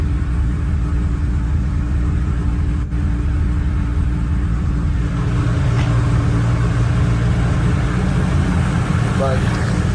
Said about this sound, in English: car's warming up